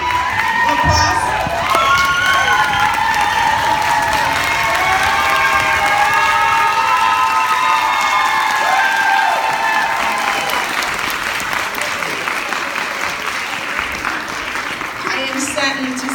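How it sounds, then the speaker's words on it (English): A standing audience at a high school graduation applauds and cheers loudly and steadily for the full stretch, with shouts and whoops rising over the dense clapping before it eases slightly near the end. "Can we stand up and give them a round of applause?"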